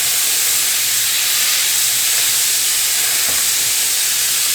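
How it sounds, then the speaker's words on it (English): A smashed burger patty sizzles on a hot griddle, a loud, steady broadband hiss that holds evenly throughout with no talking. "Alright, we're going to let this cook for about 2 minutes on this side"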